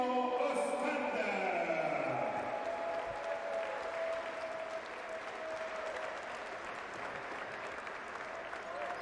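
A crowd at a youth basketball final applauds and cheers Filou Oostende's players, with dense, sustained clapping that stays loud throughout and eases slightly toward the end.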